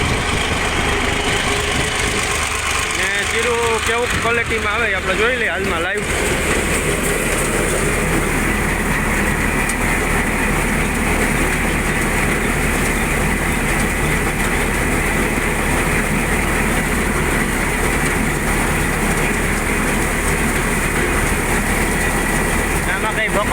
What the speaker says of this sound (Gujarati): 1100 આરપીએમ ઉપર આપણું ટ્રેક્ટર રેસ રાખ્યું છે